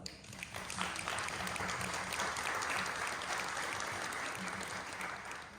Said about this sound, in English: So an applause to all of you also